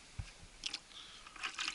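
A CZ 75 P07 pistol is dunked and swished around in water, giving a few faint, soft wet sloshes and squishy splashes in brief bursts over a quiet background.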